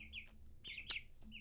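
Free-range hens cluck and chirp softly in a backyard flock, with a few short calls spread across a quiet moment.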